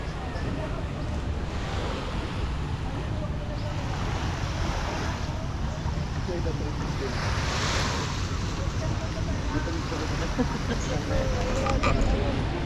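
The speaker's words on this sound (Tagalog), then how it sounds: "Ganda ng dagat talaga rito," Sea waves at Boracay beach, a continuous wash of surf with wind buffeting the microphone, steady and fairly loud throughout.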